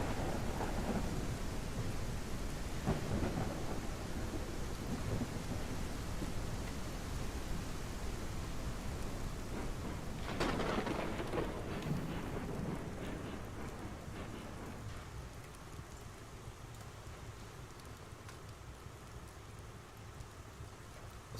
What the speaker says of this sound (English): there's your typical Oregon day, boys. Just right here, pissing down the rain.